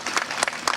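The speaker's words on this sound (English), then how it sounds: "May we have a round of applause for all our participants." Audience applause at a literary festival panel session, a short burst of clapping from the crowd, fairly loud and steady with no voices over it.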